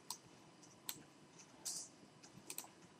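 A computer mouse clicks while photos are saved on a home computer: a handful of sharp, quiet clicks come at irregular intervals over faint room noise.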